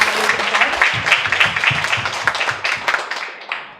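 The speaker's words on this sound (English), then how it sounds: "Ladies and gentlemen, please give a round of applause for the amazing panelists." An audience at a public policy forum applauds the panelists, a burst of dense clapping that gradually thins and fades out over a few seconds.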